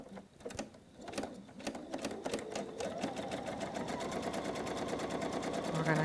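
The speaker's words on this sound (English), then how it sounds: "I'm going to put it right in my sewing machine," A domestic sewing machine stitches quilt fabric during row assembly for a Hunter Star quilt, starting with a few separate needle clicks that quickly speed into a steady, fast, close-up mechanical whir that keeps building.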